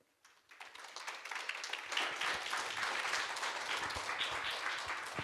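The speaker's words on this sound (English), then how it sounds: "Please give Panel 8 a big round of applause." A youth forum audience bursts into applause after a panel presentation, starting with a few claps and swelling within two seconds into steady, full clapping that carries on to the end.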